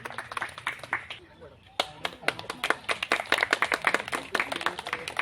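An audience at a community event combining a yoga training session, millet workshop and poetry gathering breaks into rapid, loud clapping after a brief pause, hands beating steadily as a voice is heard beforehand.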